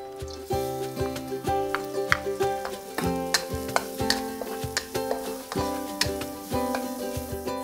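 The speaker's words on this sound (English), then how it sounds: "Stir fry the garlic until it starts to turn into golden brown color." Garlic stir-frying in a little oil in a pan over medium heat: a steady close sizzle with repeated sharp scraping taps of a utensil stirring, while tonal background music plays throughout.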